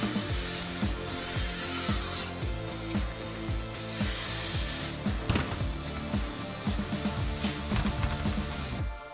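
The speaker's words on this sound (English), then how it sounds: "Now that we got the hole drilled" Power drill boring a hole through metal to fit an O2 sensor bung with 18 by 1.5 thread on an exhaust, loud and close, with repeated bursts of grinding and high whining cutting, sometimes paused and restarting.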